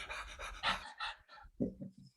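A person imitates a dog's rapid panting with quick, breathy huffs in short bursts, fairly faint and close.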